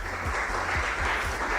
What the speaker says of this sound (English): A round of applause to yourself.